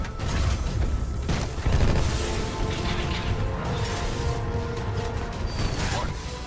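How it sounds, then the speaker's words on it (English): Missiles slam home in Titanfall 2 with repeated booming crashes and bursts over a dense layer of mechanical clatter, whooshes and rumble, loud and continuous throughout; a voice speaks beneath the din. "Could these damn missiles move a little slower?"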